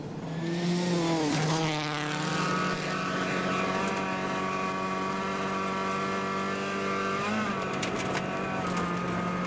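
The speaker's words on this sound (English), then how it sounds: "2 kilometres into the stage, and Sébastien suddenly experiencing a dramatic loss in engine power." Rally car engine at a super special stage of the 2009 WRC Rally Poland, suffering a sudden loss of power: a loud, steady droning note that briefly sags in pitch twice before settling, with no commentary over it.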